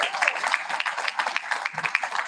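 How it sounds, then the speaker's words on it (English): Applause from an audience at the Sea Scope awards celebration, a steady dense patter of many hands clapping through the whole stretch. "Another round of applause for them"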